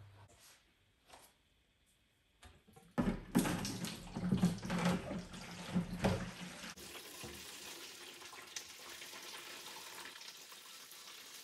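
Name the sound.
water being emptied from an aquarium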